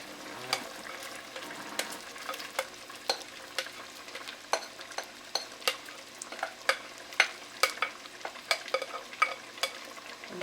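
Chopped onion with red and green peppers frying in a pot for Jamaican curry beef, a soft sizzle broken by regular clacks and scrapes of a spoon stirring, close and fairly quiet.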